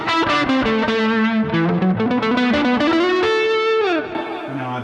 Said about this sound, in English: that's a kind of dirty tone, and then I can add a little bit more dirt here